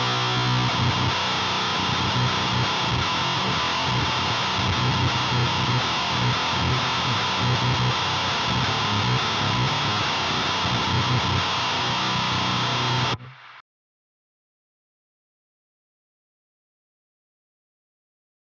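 Electric guitar played through an HM-2 style chainsaw clone distortion pedal set for a broken-up, Marshall-like tone, with loud, dense, saturated riffing that runs continuously, then cuts off abruptly into silence.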